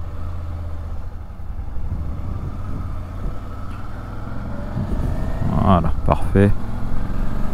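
A 2004 Suzuki DL 650 V-Strom motorcycle, A2-restricted version, rumbles steadily at low revs while being ridden, its engine note rising near the end, with someone speaking briefly over it.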